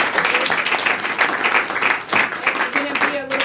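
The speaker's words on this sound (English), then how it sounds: "Let's give our second panelist, Jacqueline Chan, a big round of applause." An audience gives a panelist a round of applause at a sustainability talk, with a dense, steady patter of clapping that rises and falls briefly near the end.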